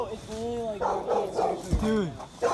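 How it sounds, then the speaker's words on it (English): A big dog barks a few times close by outdoors, its deep woofs mixed in with excited talk from several people. "Damn, that's a big ass dog."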